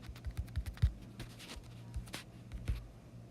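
Fingers tap out a password on an iPad touchscreen: a quick, irregular run of soft close taps, fairly quiet, with no voices.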